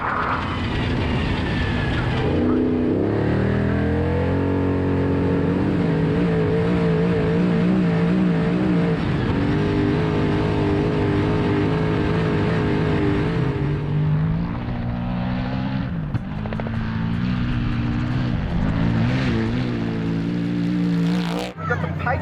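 Patriot trophy truck number 484 racing at the Finke desert race, its engine droning and revving loudly with shifting pitch while people talk over it.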